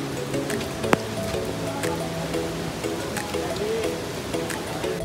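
Light rain falls steadily around an old temple in the Konkan region, a soft continuous patter close by, with faint tonal sounds in the background and no speech.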